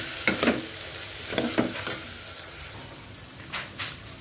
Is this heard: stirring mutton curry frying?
yes